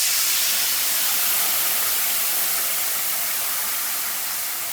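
Loud, steady sizzle as watery coconut and mustard paste hits a hot pan of fried brinjal, a broad hiss holding evenly for several seconds and easing slightly toward the end, with no voices.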